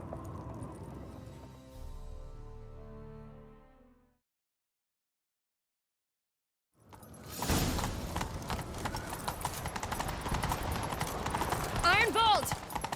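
Rhythmic hoofbeats of galloping horses in The Witcher 3: Wild Hunt with music and voices over them, after a brief silence; a horse whinnies near the end.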